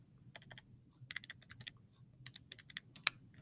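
Quick bursts of typing on a computer keyboard, close and clear, with short pauses between runs of keystrokes and one sharper key strike near the end. Nobody speaks.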